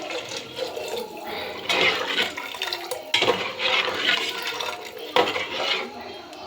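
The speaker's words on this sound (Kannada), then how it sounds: "ಆಮೇಲೆ ಸ್ವಲ್ಪ ಅದಕ್ಕೆ ನೀರು ಹಾಕ್ಕೋಬೇಕು" Water is poured into a pot of sambar cooking in a home kitchen, making a continuous splashing, gurgling rush with small clinks of the pot, close and fairly loud.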